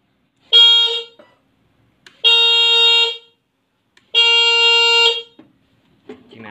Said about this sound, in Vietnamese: Chiếc này nó có gắn kèn luôn nha anh em.